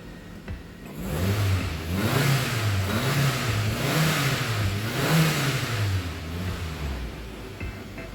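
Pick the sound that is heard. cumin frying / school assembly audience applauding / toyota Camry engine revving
toyota Camry engine revving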